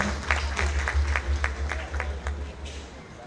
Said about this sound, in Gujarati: આપણે એમને તાળીઓથી વધાવીશું